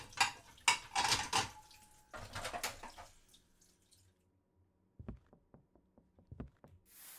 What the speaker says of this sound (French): je dois encore faire la vaisselle